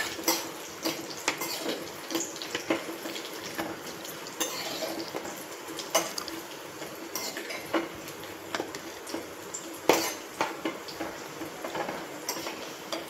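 Cashews, raisins and poppy seeds frying in ghee for sago and chana dal vermicelli payasam, a soft steady sizzle punctuated by repeated light spoon taps and scrapes against the pan, close and without speech.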